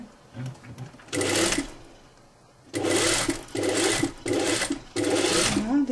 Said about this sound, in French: Et tu passes une couture d'1 cm.